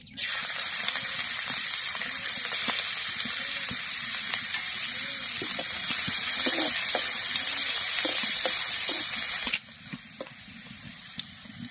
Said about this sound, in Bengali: এবার কড়ার মধ্যে সাদা তেল দিয়ে দেব। রসুন কুচি